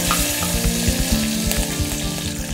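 Curry leaves and mint sizzle loudly in hot oil, a dense, continuous crackle with popping spatter, close and alone without talk.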